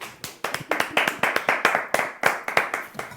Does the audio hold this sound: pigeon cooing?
no